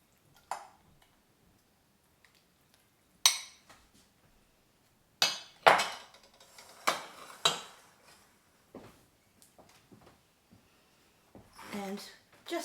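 A ladle scoops wonton broth into a bowl, giving sparse clinks and knocks of metal against ceramic spread out over a quiet stretch, with small pouring and sloshing noises between them.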